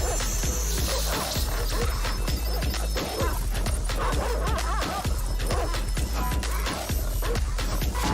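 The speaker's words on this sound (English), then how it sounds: "Playing dog noise over the audio." Dog barking sound played over a Watch Dogs game trailer, with repeated yips and bow-wows mixed into loud, dense trailer music that runs throughout.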